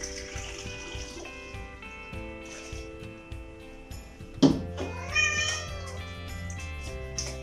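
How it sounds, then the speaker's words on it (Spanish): A cat meows briefly over music, rising once near the middle with a short follow-up, while faint tap water runs in a home kitchen during cocktail and milkshake making. "Mi gato quiere malteadas."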